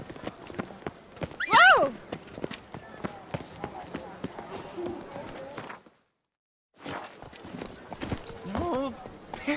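Roach the horse gallops in The Witcher 3, hooves clip-clopping in a quick steady rhythm close by, with a brief neigh early on, a shouted voice over it, and a short silent break before the hoofbeats resume.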